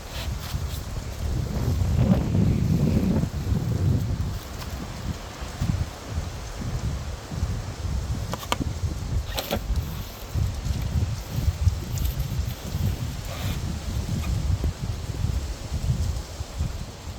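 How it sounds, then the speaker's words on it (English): Gusty wind blows across an outdoor garden with raised beds, rumbling against the microphone with rustling leaves and a scattering of small knocks and clicks, steady and fairly loud throughout. "the wind's blowing bad"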